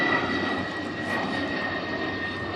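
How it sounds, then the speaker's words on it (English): A fixed-wing airplane drones steadily overhead at a distance above the water near New York City's South Brother Island, a faint continuous engine hum with no speech. "I'm sure you can hear that airplane flying overhead"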